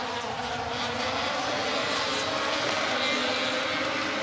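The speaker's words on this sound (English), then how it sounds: "We can hear the cars preparing themselves for semi-final number 2" Rallycross cars idling and revving before a semi-final at World RX of Türkiye, heard from a commentary box as a dense, steady engine drone with a buzzing, insect-like whine that stays loud and continuous throughout.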